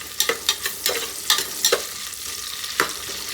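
Onions and green chillies frying with whole spices for haleem, a bright continuous sizzle broken by repeated sharp scrapes and clacks of a spoon stirring in the pan, close and fairly loud.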